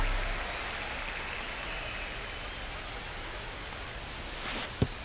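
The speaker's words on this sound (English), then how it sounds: "the field's not going to be able to hold up if the rain gets any worse than this" Steady rain hisses across a baseball field in MLB The Show 25 during a Dodgers at Phillies game, a dense even wash with a brief sharp knock near the end.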